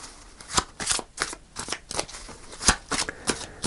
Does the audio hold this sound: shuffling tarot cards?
yes